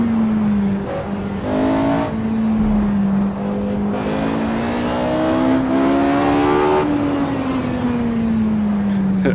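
A Porsche 918 races through canyon roads in the Assetto Corsa driving game, its engine note climbing and dipping steadily as it revs through gears, loud and continuous without pause.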